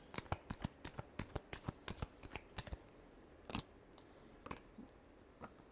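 Tarot cards shuffled in quick bursts of crisp riffling flicks, a rapid run of sharp slaps and then a few sparser taps, close and fairly quiet with no voices.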